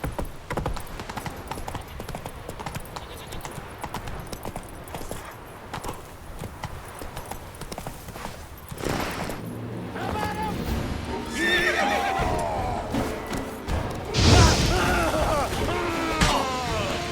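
Horse hooves clatter steadily through a gallop in The Witcher 3, then several high, wavering neighs ring out near the end, with game sounds mixed underneath.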